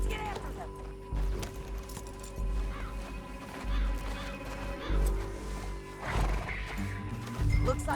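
A horse neighs and whinnies with clopping hooves in the Red Dead Redemption 2 video game, set over a steady bed of game ambience and music, the whinny rising clearly near the end.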